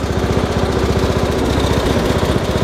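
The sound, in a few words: MTD garden tractor engine running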